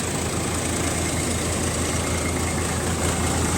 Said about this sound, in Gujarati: અને અહીંયા પડી છે જોન ડિયર એકાવન જીરો પોચ હવે આપણે ટ્રેક્ટરનું પરફોર્મન્સ તમને એનું ફાયરિંગ સોંભળો